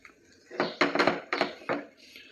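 A banana and wheat flour barfi mixture with ghee is stirred in a nonstick pan, giving four or five loud, close scraping strokes in quick succession.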